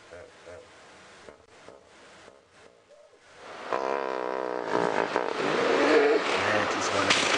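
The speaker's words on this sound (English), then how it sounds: "just listening to the hippos there" Hippos call from a river in the African bush at sunset, faint sounds at first and then a loud, deep, honking grunt series that rises and carries on steadily.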